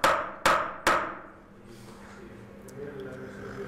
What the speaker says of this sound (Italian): prima il chiodo va fissato nella posizione giusta con alcuni colpi di martello leggero